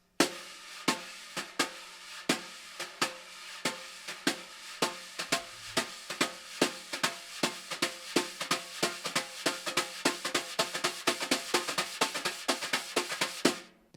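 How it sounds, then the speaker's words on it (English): A steady jazz drum groove: a ride cymbal ticks a swinging pattern while crisp snare accents land on top, tempo pushing slightly faster toward the end. "you're getting that Spang-a-lang from the ride cymbal, but again, down here on the snare drum"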